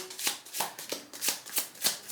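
A deck of cards, apparently tarot, is shuffled by hand in a rhythmic run of crisp riffling bursts, about seven in quick succession, close and clear with no talking.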